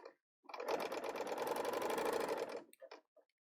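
A Bernina L890 serger sews a short test edge, a close, loud, rapid mechanical whirr lasting about two seconds, followed by a few brief clicks and handling sounds.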